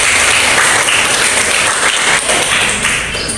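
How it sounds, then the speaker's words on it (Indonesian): A room of students claps in a burst of dense, loud applause that carries steadily for several seconds during a classroom poetry lesson, then begins to taper. "tepuk tangan dulu"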